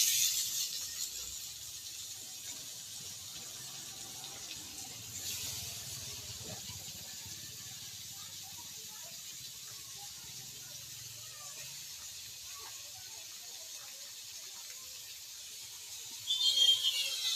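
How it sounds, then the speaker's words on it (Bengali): Ridge gourd pieces hitting a pan of fried onions set off a soft, steady frying hiss that lasts throughout, with a brief louder crackle near the end. "এবার আমি সব ঝিঙ্গাগুলো দিয়ে দেবো ওতে আমি"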